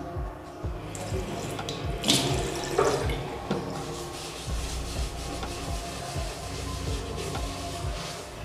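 Water runs from a bathroom tap while it is rubbed and washed clean of calcium stains, a steady splashing stream with rubbing and scrubbing noises mixed in, close and fairly loud throughout.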